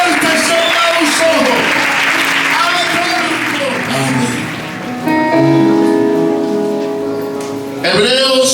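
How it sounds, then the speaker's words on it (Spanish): Loud applause from a church congregation fills the whole stretch, dense and sustained, with voices and musical tones mixed in and a brief dip before it swells again. "Para fuerte ese aplauso"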